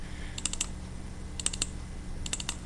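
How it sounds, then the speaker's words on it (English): A computer mouse double-clicks in three quick pairs of sharp clicks, evenly spaced about a second apart, close and alone without talk, while numbers are being selected in GIS software. "I'm just double clicking these numbers."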